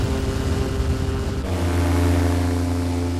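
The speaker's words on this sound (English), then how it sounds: "Once it reaches about 50 kilometres an hour, the airfoil flare boat takes off and flies" A loud, steady engine and propeller drone close by from a two-seater airfoil flare ground-effect boat, its tone shifting and deepening partway through as it takes off, with rushing noise underneath.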